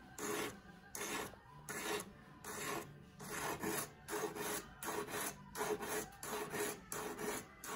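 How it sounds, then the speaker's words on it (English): Sanding the outside of an engagement ring during sizing down: close, steady back-and-forth rasping strokes in an even rhythm, about ten passes, with no talking. "And then the outside of the ring, again, just a little sand to get that nice and smooth."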